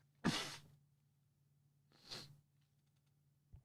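A single sharp sneeze, followed a moment later by a softer breathy sniff or exhale, in an otherwise quiet room.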